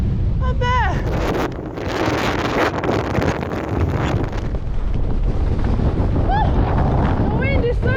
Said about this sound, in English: Oh, the wind is so strong up here.